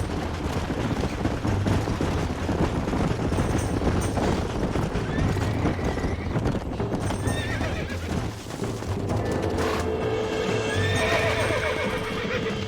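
Horse hooves clip-clop steadily with repeated whinnies and neighs from a horse in the Red Dead Redemption video game, loud and continuous alongside game sounds, with a faint voice briefly underneath.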